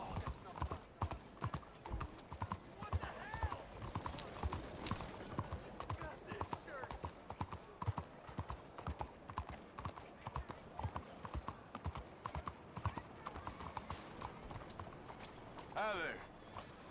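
Horse hooves clip-clop at a steady trot in the Red Dead Redemption 2 video game, a continuous rhythmic patter close by, with someone talking over it and a brief neigh near the end.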